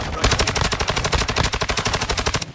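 Rapid automatic gunfire from a Tempus Razorback rifle in the Warzone 2 shooter game, a dense, steady stream of loud, close shots that barely pauses across the whole stretch.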